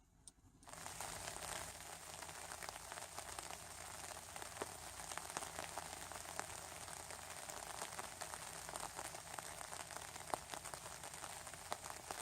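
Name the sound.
rain falling on a tarp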